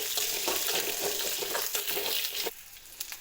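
Onion and other ingredients frying in a pan, a steady close hiss and crackle with soft stirring scrapes, easing off near the end, no voices.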